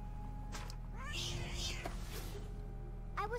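A cat meows in a video game, with several short rising calls over a steady low background hum.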